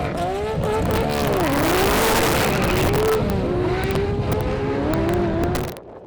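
Skyline GT-R cars drag racing on an airport runway at a GT-R Challenge event: loud, continuous high-revving engine roar with rising and falling pitch through gear changes, staying close and intense before cutting off at the end.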